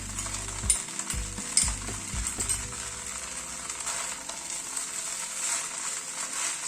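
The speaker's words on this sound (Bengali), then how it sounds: "এবার যে সসটা তৈরি করে রেখেছিলাম সেই সসটা দিয়ে দিচ্ছি।" Sweet and spicy sauce hits garlic rice noodles in a hot pan, with a few sharp clinks and scrapes as they are stirred, then a steady loud sizzle carries on alone.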